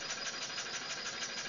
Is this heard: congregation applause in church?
no